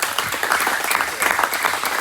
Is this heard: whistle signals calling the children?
no